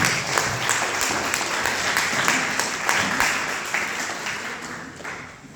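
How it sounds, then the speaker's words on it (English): Sustained applause from an audience, many hands clapping steadily for several seconds without a break. "I'd like to have another round of applause for Fiona and Ashraf's dad"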